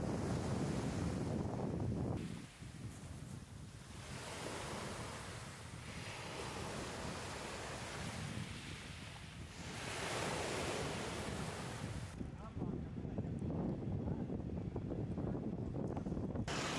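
Sea waves on the Italian coast near Portofino, a continuous rushing surf that swells and washes in repeated surges, heavy wind buffeting the microphone, no voices.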